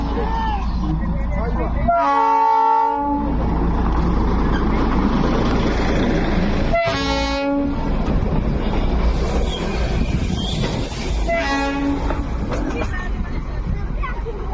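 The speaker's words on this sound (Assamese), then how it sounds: "এই টয় ট্ৰেইনটো যিহেতু দেখিছে এইটো ডিজেল ইঞ্জিনৰ হয় টয় ট্ৰেইন।" A diesel toy train passes at Darjeeling's Batasia Loop, sounding several loud horn toots in separate bursts over steady wind and crowd babble.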